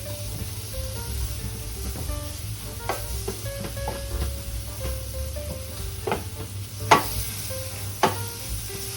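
Plantain bananas fry in a pan with a steady, close sizzle, interrupted now and then by soft stirring clicks and a couple of sharper pops or taps.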